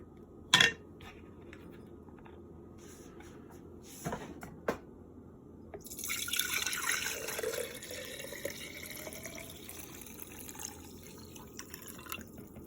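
Coconut milk probiotic mixture is poured into a glass mason jar: a few sharp knocks and clinks come first, then a steady, close liquid pour runs for the last several seconds with no talking.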